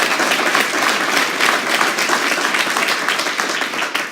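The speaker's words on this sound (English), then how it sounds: "Stacy, stand up, let them clap." An investiture ceremony audience claps warmly for a judge's judicial assistant, a full, even round of applause from many hands that stays steady throughout, with no voices rising above it.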